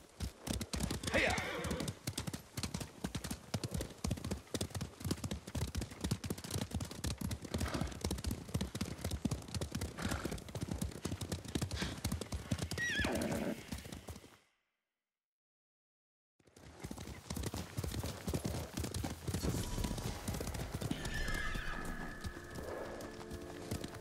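Horses galloping in Ghost of Tsushima, with steady rapid hoofbeats drumming close and loud, neighs and whinnies breaking through, a brief silent gap, then the galloping resuming with voices calling over it.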